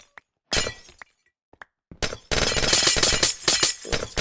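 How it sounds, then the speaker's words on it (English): Ice blocks being broken in Minecraft, a burst of glassy shattering crashes: a few short isolated cracks and clinks, then a dense, loud run of breaking and tinkling that continues to the end, with no voices. "I love the sound of breaking ice in this game."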